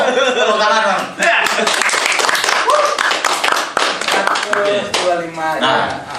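A small group claps hands at an informal gathering, with scattered sharp claps coming in short bursts beneath loud, continuous talking and laughter.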